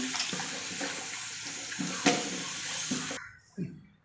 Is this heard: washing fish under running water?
yes